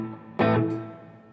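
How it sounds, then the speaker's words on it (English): An electric guitar through a used Boss Katana 100 MK1 amplifier with reverb engaged: a single bright strummed chord hits sharply, then rings out and decays in a smooth reverberant tail. "what else have we got? Reverb."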